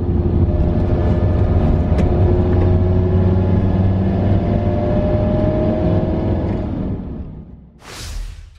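Car driving on the road in northern Sardinia, a steady low engine rumble with road noise that holds for several seconds, then fades as a brief whoosh passes near the end.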